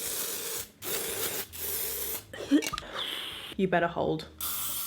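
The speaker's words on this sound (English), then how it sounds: "Dry shampoo, because it needs a wash." Dry shampoo hisses from a spray can onto hair in several close, short bursts separated by brief pauses, with a few words of speech between them.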